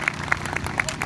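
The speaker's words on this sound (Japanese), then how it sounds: "今一度大きな拍手をよろしくお願いいたします。" Crowd applause at an outdoor campaign rally in Okinawa, a brief stretch of steady clapping with a few sharper claps standing out and faint voices mixed in.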